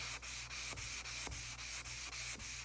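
Rhythmic back-and-forth strokes of a sanding block rubbing a surface, about ten even strokes, close and steady with no voices.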